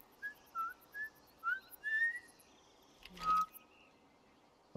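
A character in The Last of Us whistles a short tune of several clear, separate notes, quiet and close, followed by a brief thud and a higher whistled note.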